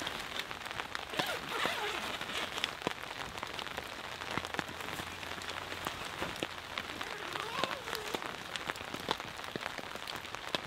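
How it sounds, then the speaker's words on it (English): Light rain patters steadily on a tent with dense, even droplet ticks close by, lasting throughout with no voices. "It's still raining, but it's super light."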